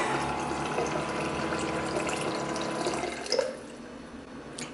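An Electrolux Pure 4X water purifier dispensing chilled water, with a steady close rush of flowing water over a low mechanical hum that drops off and quiets near the end, with no talking.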